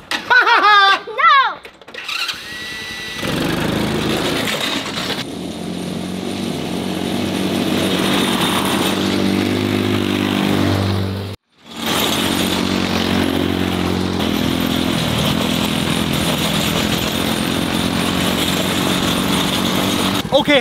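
Small engine of a kids' tractor on a farm, starting with a few sputters and chatter, then a loud, continuous buzzing drone close by, briefly cutting out midway before resuming; children and an adult talk over parts of it.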